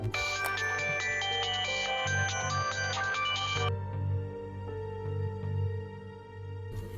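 A phone ringtone plays with a repeating electronic melody over a steady low hum, loud at first and then continuing more softly through the rest.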